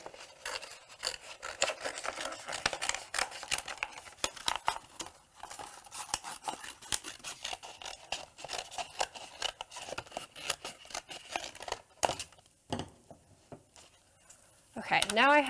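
Scissors trim a large sheet of infusible ink up close, making rapid crisp snips and rustling scrapes in an irregular rhythm; talk is heard only lightly.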